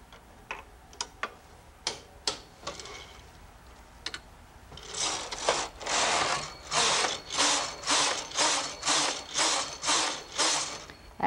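Knitting machine knitting rows for a skirt waistband: scattered sharp mechanical clicks, then a rhythmic series of about ten swishing, ratcheting carriage passes back and forth, close and moderately loud.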